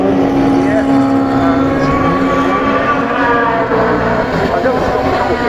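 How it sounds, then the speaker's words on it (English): A Metro touring car in a Super Touring race roars past at Paddock Hill Bend, Brands Hatch, its engine loud and close as one sustained, droning howl across the whole stretch, with possible voices underneath. "that metro's loud"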